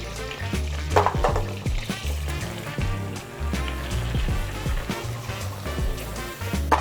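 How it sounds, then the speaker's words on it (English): Flour cooking in melted butter to make a roux for creamy macaroni and cheese: a steady close sizzle with repeated scraping stirs against the pan, no voices. "All right, so my butter is melted. I'm gonna add my flour to the butter."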